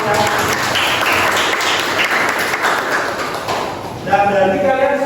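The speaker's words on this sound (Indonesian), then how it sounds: "Beri tepuk tangan yang lumayan." High school students clapping in a classroom, a loud wash of applause that thins out near the end as a voice starts speaking over it.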